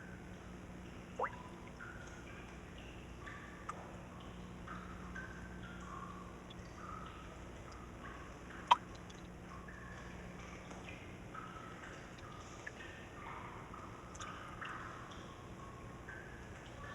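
Water dripping inside subterranean limestone caverns, sparse single drips and small plinks spaced seconds apart over a faint, steady wash of background noise.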